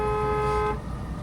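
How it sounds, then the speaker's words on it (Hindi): A car horn gives one long, steady honk at a blind turn in a narrow lane, held loud and close for under a second before it cuts off, leaving traffic rumble. "लॉन्ग हॉर्न प्रेस करिए"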